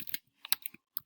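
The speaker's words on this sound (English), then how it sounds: "I really can't type and be filmed at the same time" Quick bursts of typing on a computer keyboard, a few clustered key clicks separated by brief pauses, close and fairly quiet, with no voice.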